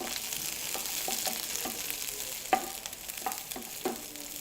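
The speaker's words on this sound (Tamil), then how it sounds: "கேரட்டு, பீட்ரூட்டு, இது அது 2 எல்லாம் போட்டு வதக்கணும்." Carrot and beetroot sautéing in a pan for a no-onion, no-garlic biryani, a steady sizzle broken by repeated scrapes and knocks of a spoon stirring the vegetables, close and moderately loud.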